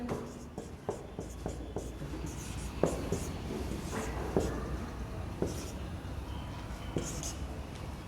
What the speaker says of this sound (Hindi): ऑप्शन लिख देते हैं।